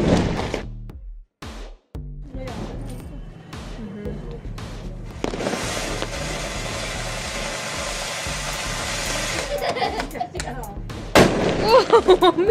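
Diwali firecrackers at a family home: scattered sharp pops at first, then a long continuous crackling, fizzing burst, ending in a quick string of loud bangs, with people talking around it.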